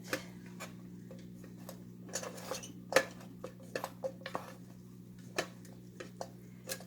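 Cooked rice being stirred in a pot, soft scattered clinks and taps of a utensil against the pot at irregular intervals, faint and close over a low steady hum.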